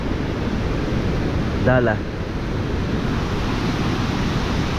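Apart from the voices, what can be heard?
strong wind at the seashore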